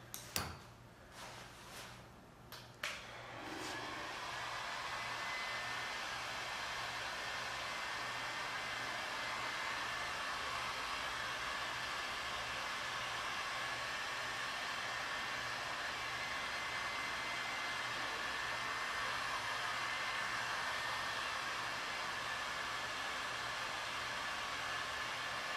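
Heat gun blowing hot air while softening parts of a convertible top, a steady loud broadband hiss and whoosh running continuously after a few brief clicks and handling knocks at the start.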